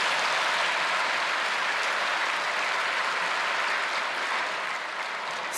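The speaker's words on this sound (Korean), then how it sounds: "한번 박수로서 감사를 드리십니다" Church congregation applauding in a large worship hall, a dense, steady wash of clapping at close range that holds for several seconds and tapers slightly at the end, with no voices.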